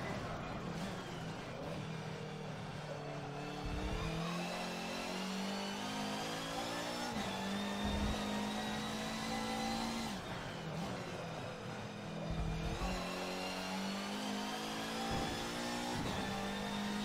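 Turbocharged race car in a racing video game, its engine revving and climbing through repeated gear changes, rising pitch sweeps cut by brief shift drops, fairly quiet and continuous.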